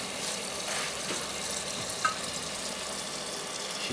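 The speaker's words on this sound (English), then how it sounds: "once they're frying for a few minutes" Steady broadband sizzle of onion rings frying in hot oil, continuous and fairly even throughout, with a brief sharper crackle midway.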